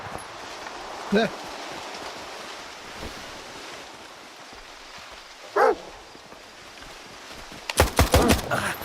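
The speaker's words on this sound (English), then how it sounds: "there'll be lots of blind dogs that I have to deal with" A blind mutant dog in S.T.A.L.K.E.R. 2: Heart of Chornobyl gives a few short barks at intervals, ending in a louder rapid burst over a windy, rushing background.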